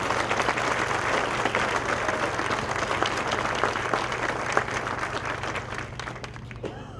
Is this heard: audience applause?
yes